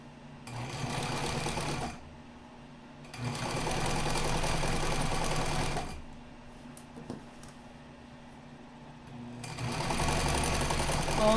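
A sewing machine stitches a half-inch seam on a skirt in three loud close bursts of rapid whirring, separated by quiet pauses filled with faint handling clicks and rustles.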